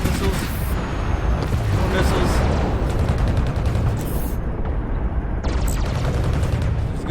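Missile salvos fire in the spaceship game Fractured Space, a dense run of booming, crackling blasts and bursts that stays loud and unbroken throughout, with a voice briefly speaking over it.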